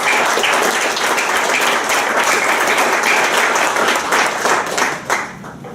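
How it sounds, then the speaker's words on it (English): Dense, steady applause from a city council meeting audience fills the room for several seconds, loud and continuous before tapering off at the end. "Give them a nice round of applause."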